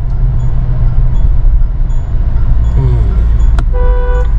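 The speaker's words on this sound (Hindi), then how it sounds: "ये हॉर्न भी ठीक है, इसका हॉर्न बजाया मैंने" A Mahindra Scorpio N diesel automatic sounds its horn once, a loud, steady multi-tone honk lasting about a second near the end, over constant cabin and road rumble.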